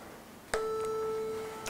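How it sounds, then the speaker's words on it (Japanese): A pure 440 Hz test tone sounds for about a second after a sharp click, steady and fairly quiet over a faint hiss, then fades away. "だから例えば440の音ちょっと今鳴らしてみると、"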